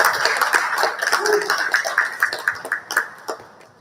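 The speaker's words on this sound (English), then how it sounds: "We'll give them a round of applause, yo." A small crowd at a breakdancing event panel claps, the applause thinning out into scattered individual claps toward the end.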